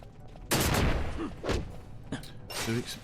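In Final Fantasy XII, an explosion trap goes off as a sudden loud blast with crackling debris, followed by further impact bursts during a battle with skeletons, close and sharp.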